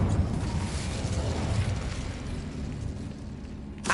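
An Incendio fire spell cast in the video game Hogwarts Legacy, a rumbling, roaring burst of flame that holds steady for several seconds before a small pop at the end.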